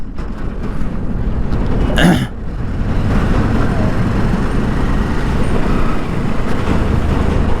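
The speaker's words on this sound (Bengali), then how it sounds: "আমাদের এই রাস্তাগুলোতে খুবই এই বড় বড় লরির চাপ" Heavy lorry traffic rumbles along a road, heard from a motorbike as a loud, constant roar of engines and tyres, with a brief louder vehicle pass early on.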